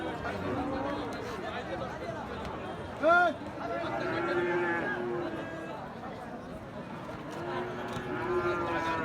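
Cross-bred Friesian and Australian-type cattle bulls moo several times amid a noisy cattle market crowd, one loud low call standing out briefly over the steady murmur of people and animals.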